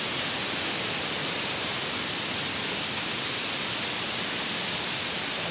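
Tinuy-an Falls in Bislig City roars as a steady, dense broadband wash of falling water, continuous and close with no pauses, no voices.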